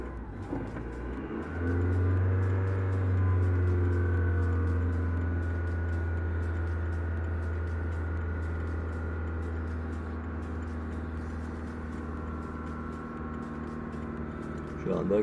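A car on a test drive over a rough, broken road after a Z-rod installation, its engine swelling into a low steady hum early on and then settling into an even cruising drone, heard from inside the car.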